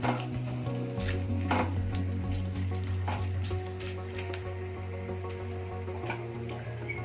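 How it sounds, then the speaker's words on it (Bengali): Whole spices such as cumin lightly frying and being stirred in a pan while cooking papaya with katla fish head, giving a steady close sizzle with scattered utensil scrapes and a low hum throughout. "এগুলো একটু নেড়ে দিয়ে একটু হালকা ভাজা হলে একটা সুন্দর গন্ধ বেরোবে।"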